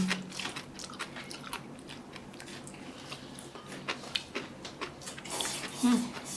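Close, wet crunching and chewing of a Korean-style shellfish lettuce wrap with homemade kimchi, steady irregular bites and chews across several seconds, with a louder crunchy burst near the end.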